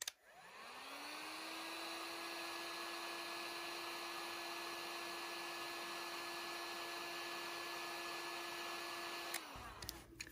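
A heat gun blows a steady whirring stream of hot air onto a plastic pen holder, its motor spinning up at the start and running evenly before shutting off near the end.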